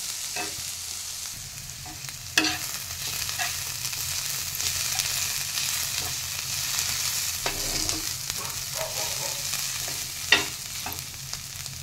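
Onions sizzle steadily on a griddle (tava) for onion chutney, a continuous close frying hiss with occasional soft stirring clicks and scrapes, no voices.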